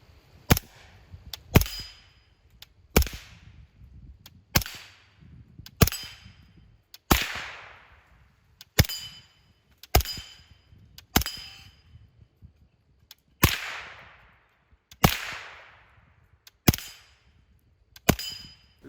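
Suppressed shots from a Ruger 5.7 pistol fitted with a Yankee Hill R9 suppressor, a dozen sharp cracks at irregular spacing, each trailing a short fading hiss, close by with no talk.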